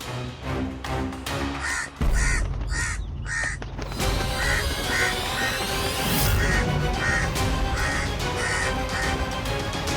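Crows cawing in a pastoral village setting, a series of loud, repeated harsh calls in short bursts over a busy background of music and ambient noise, continuing throughout.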